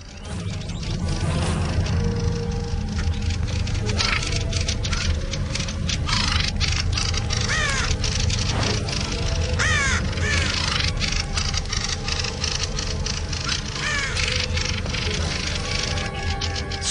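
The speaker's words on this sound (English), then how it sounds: "One of the birds squawks angrily and threatens the intruder." A flock of birds mobbing a raven caws and squawks harshly and continuously, with overlapping loud calls and scattered sharp cries throughout.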